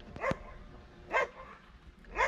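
Three short, deep barks from a big dog on Karpathos, Greece, spaced about a second apart, with quiet background between them.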